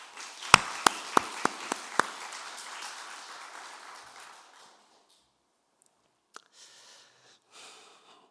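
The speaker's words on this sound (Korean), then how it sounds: "큰 격려와 함께 우리 기둥이 꼭 되어달라고 큰 박수 한번 보내도록 하겠습니다." A church congregation applauds Andrew after his worship song: a few sharp, close claps ring out over a wider wash of clapping, which fades away within about four seconds, leaving near silence with a stray faint knock.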